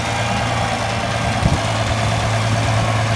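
A Farmall Super MTA tractor engine idles close by, a steady low throb with a constant hum and no talking.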